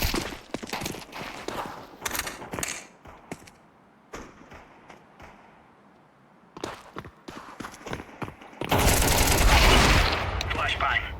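Pistol fire in Counter-Strike 2, with several sharp shots scattered through the first half and a long loud burst of gunfire near the end, mixed with other game sounds.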